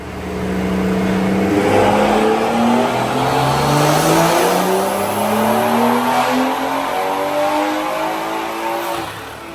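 A six-speed BMW M240i revs hard on a dyno, its engine note climbing steadily through the gears in long, loud sweeps with no talking over it.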